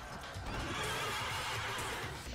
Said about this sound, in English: A chicken race with a horse